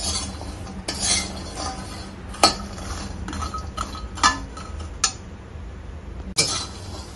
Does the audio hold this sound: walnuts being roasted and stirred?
yes